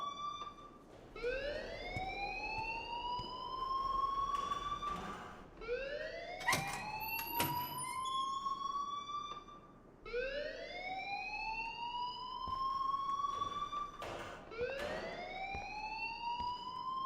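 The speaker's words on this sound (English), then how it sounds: "please turn off that alarm since that's your job" Rising, wailing fire alarm siren from the Life is Strange video game, four long upward sweeps repeating steadily and loudly, with brief clicks between cycles.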